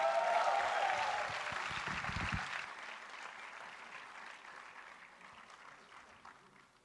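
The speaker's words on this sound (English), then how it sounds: "one more round of applause for Arjun, guys." A crowd claps and applauds, starting strong then gradually fading away, with a few cheers near the start.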